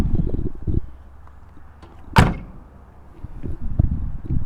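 A single solid, heavy thunk as the door of a 1968 Cadillac swings shut, loud and close, set between quieter handling noises and faint shuffling.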